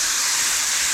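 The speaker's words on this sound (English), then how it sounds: "Hear that sizzle." Four chicken breasts sizzle on a griddle top over low heat, a steady, loud, broadband hiss without any talk.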